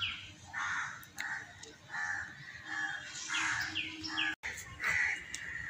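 Crows cawing around a rooftop under an open sky: repeated harsh calls and chirps from several birds, some overlapping, at moderate distance against steady outdoor background noise.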